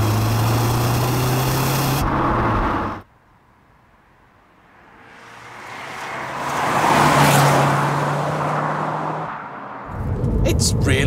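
A high-mileage Vauxhall Zafira GSI with a turbo engine accelerates hard from inside the cabin, a droning engine note that drops away at a gear change, then swells back up with rising revs before easing again.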